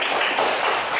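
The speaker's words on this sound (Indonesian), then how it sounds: "kita berikan tepuk tangan dulu buat" A classroom of students claps together in a dense, steady burst of applause that fills the short moment, loud and close with no talking over it.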